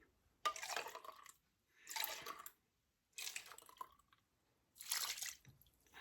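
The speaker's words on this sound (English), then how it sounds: "I was trying to rinse as much of that soup out there as I could" Water rinses leftover soup out of a can in four separate short bursts of splashing, gurgling liquid, each about a second long with quiet gaps between, close and fairly soft.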